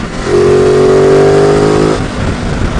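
A Ducati Multistrada 950 motorcycle engine holds a loud, close, sustained drone with a steady harmonic tone that rises slightly and then eases off after about two seconds, with no talk.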